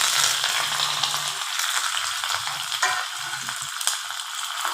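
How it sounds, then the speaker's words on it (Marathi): Curry leaves and coriander sizzling in hot tempering oil in a pan, a dense continuous frying hiss heard up close with no voices. "तर आपण कढीपत्ता आणि कोथिंबीर टाकू"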